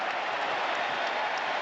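A basketball arena crowd at an NBA Finals game roars in a steady, broad wash of noise, fairly close and unbroken throughout.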